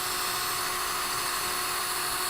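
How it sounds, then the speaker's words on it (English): A continuous high-pitched whine of a drill running steadily at speed, drilling out rusted screws on a flood-damaged Cadillac Allante, close and loud, with no pauses or voices. "He is trying to drill out a couple screws"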